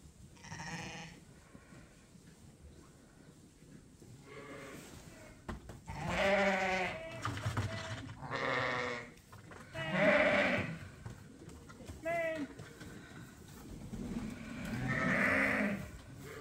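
A ewe sheep bleats repeatedly near her newborn lamb, a series of loud, close, drawn-out calls with short pauses between them, and no talking.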